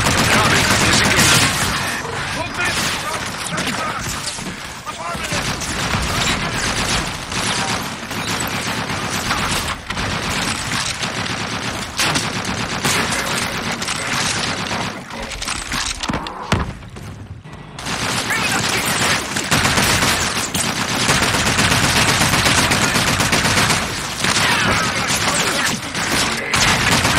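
Dense, sustained gunfire and explosions from an aerial gun run in Call of Duty Infinite Warfare, loud rapid bursts with booms and crashes throughout, under radio chatter, with one brief lull midway.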